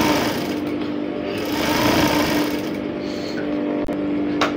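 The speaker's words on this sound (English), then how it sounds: "I'm just going to sew all the way down for the second side as well." Sewing machine running steadily as it stitches crinoline onto fabric for a rose ruffle sleeve, a close, loud continuous whir with a brief click near the end and no talking.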